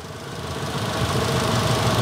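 A four-cylinder 2016 Chevrolet Spark engine idles steadily close by with the hood open, a smooth, even hum with a faint mechanical ticking and no voices.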